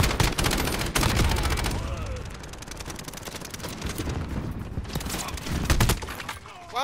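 Dense, rapid gunfire from automatic weapons during a team deathmatch in a first-person shooter game, with sustained bursts close and loud, brief pauses between volleys, and occasional voices under the shooting.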